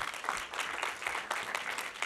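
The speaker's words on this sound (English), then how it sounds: "If you can just join me in giving them a round of applause." An audience applauds a panel at the close of a discussion on financing urgent ambition, a brisk patter of many hands clapping at moderate volume with no speech over it.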